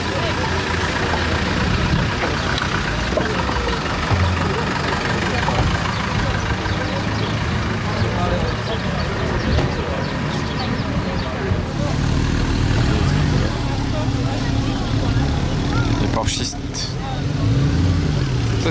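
A convoy of cars rolls past at a Ferrari gathering, a steady mix of engine drone and idling rumble throughout, with people talking over it.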